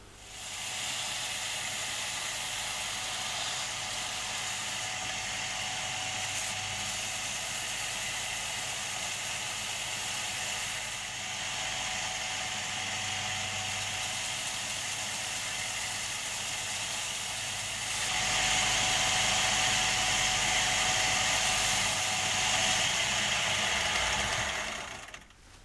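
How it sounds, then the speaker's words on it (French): A sander shapes the handle scales of a pocket knife with a steady, loud, hissing whir that holds for a long stretch, then grows harsher and louder near the end before it stops. "je vais les passer à la ponceuse pour leur donner leur forme finale"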